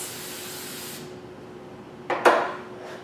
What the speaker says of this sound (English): Now we're going to spray the surface.